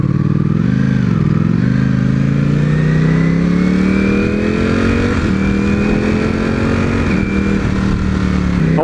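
Motorcycle engine and exhaust revving on a first ride, a loud, close, throaty drone that climbs steadily in pitch with a brief dip and rise near the start, alone without talk.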